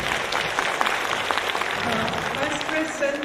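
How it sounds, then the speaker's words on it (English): Audience applause fills a conference hall at a Taiwanese dermatology meeting, steady dense clapping from a large crowd lasting throughout, fairly loud and close with no break. "Let's give a big round of applause for Professor Zhao."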